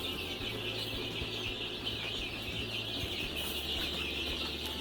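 Canela Preta hens on a free-range family farm in Piauí, Brazil, cluck softly in a continuous background murmur beneath constant high-pitched insect buzzing, with no voices.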